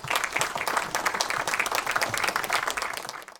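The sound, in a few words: audience applause for the party leader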